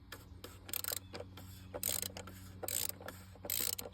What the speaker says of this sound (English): a DeWalt ratchet, 1/2-inch drive. Gonna loosen that cap up